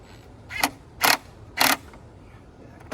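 A wrench tightens the long L crankcase evacuation fitting on a Ford F150 5.0: three short ratcheting clicks in bursts about half a second apart, close and fairly quiet.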